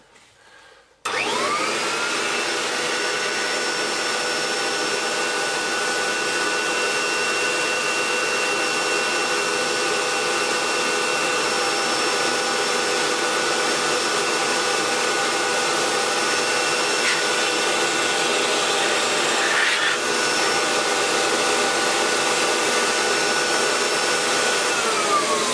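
A Kirby Legend 2 vacuum switched to its blowing end starts abruptly and then runs as a loud, steady motor whine with a high tonal hum for the whole stretch. No one speaks.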